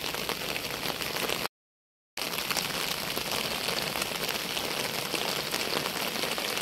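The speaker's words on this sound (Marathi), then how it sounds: "एवढा पाऊस पडतोय आपल्याकडे" Heavy rain pours over waterlogged village fields, a steady, dense hiss of drops that continues evenly apart from a short silent gap early on, with no one speaking.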